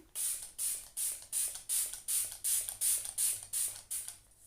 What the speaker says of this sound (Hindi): यहाँ पे फिर से मैं थोड़ा सा रोज़ वाटर स्प्रे करूँगी